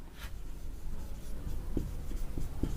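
Writing on a board during a Class 7 maths lesson on quadrilaterals: a quiet, continuous scratch with a few sharper taps as strokes land, fairly close, with no voices.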